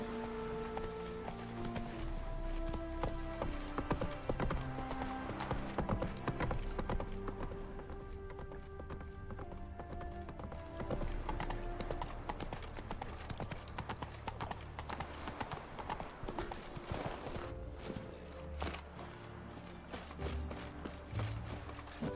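Horse galloping in the video game The Witcher 3, a rapid continuous clip-clop of hooves under a steady musical score, loud throughout with no talking.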